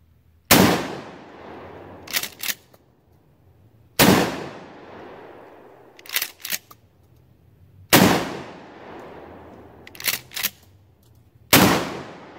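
A Mossberg 500 shotgun fitted with an Archangel stock and shell carrier fires four loud, close booming shots at a steady pace, each followed by a fading tail and a quick burst of clacking from the pump action being cycled.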